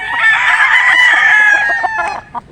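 A Gilmore gamefowl rooster, a street-bred bird, gives one loud, close crow lasting about two seconds and tailing off at the end, with no voices over it.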